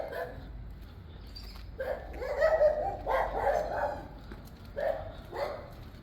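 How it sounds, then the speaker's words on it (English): A dog barks a few times in short bursts on a street during a walking tour of Carolina, Puerto Rico, moderately distant amid outdoor ambience. "Look at the dog."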